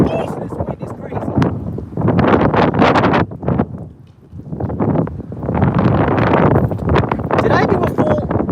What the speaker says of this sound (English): this wind is crazy.